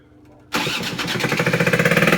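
After a quiet moment, a Honda SH50 City Express scooter engine with no exhaust, first start in nine years, starts suddenly and runs loud and high-revving with a rapid, pulsing rattle.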